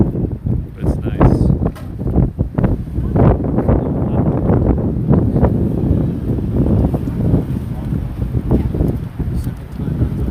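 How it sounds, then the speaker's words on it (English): Gusty wind buffeting a microphone on a Manhattan street walk in December, loud low rumbling bursts that rise and fall, with someone talking over it. "It's still quite windy."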